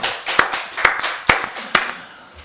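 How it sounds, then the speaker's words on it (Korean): A church congregation at a Wednesday worship service claps together in a few loud, spaced bursts of hand claps that fade out, close and without talk. "우리 박수 하나님께 영광 돌리겠습니다."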